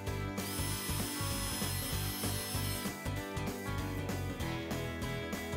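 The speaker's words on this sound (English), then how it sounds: "To drill the holes, begin with a 1/8 inch bit and set the drill to reverse." A drill bores through the gel coat and fiberglass of a boat, with a close, continuous grinding and rasping and repeated scraping bursts.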